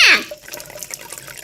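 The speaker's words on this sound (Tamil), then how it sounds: "வள்ளி தண்ணி பிடிச்சிக்கிட்டே தான் இருக்கா." Water runs from a pipe into a pot, a brief bright splash at the start settling into a steady, moderate trickle and patter.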